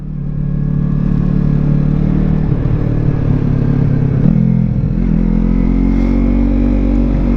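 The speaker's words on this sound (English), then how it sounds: "Like, I feel like I can really like full pin this thing and not be too worried." A 2017 Yamaha MT-03 motorcycle engine drones loud and steady from close by while riding on a road, with the revs rising and falling slightly throughout.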